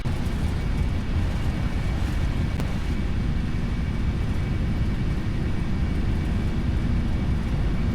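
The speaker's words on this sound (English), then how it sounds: "That's gonna be a proper takeoff run." Steady, loud broadband roar of a Boeing 747-400 jet on its takeoff run, as rendered in the PMDG add-on for the Prepar3D v5.4 flight simulator, with engine rumble holding constant throughout and no voices.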